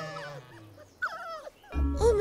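Dogs in a children's cartoon make short yips and whimpering barks, one burst after another, mixed with background music and a brief voice.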